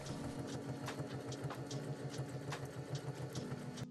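A sewing machine stitches down the side seams of a short-sleeve top, a steady fast mechanical whirr with a rhythmic chattering pulse, close and moderately quiet with no speech.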